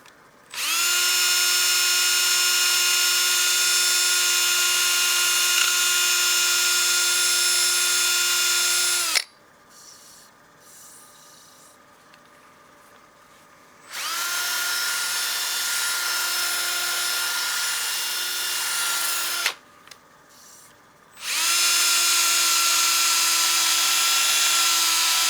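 Power sanding disc whirring loudly against a wooden bowl with a waxed surface, in three long steady bursts separated by short pauses, with a strong sustained whine and no talking.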